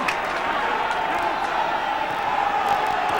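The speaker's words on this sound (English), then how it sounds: "Big crowd here at Odsall" Large rugby league crowd at Odsal stadium during a Bradford versus Wigan match, a steady roar of murmuring and cheering spectators filling the whole stretch at moderate loudness.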